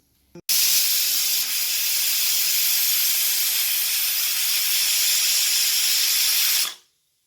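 A pressure cooker releases a steady, loud, close rush of steam for about six seconds before it cuts off abruptly, preceded by a brief click.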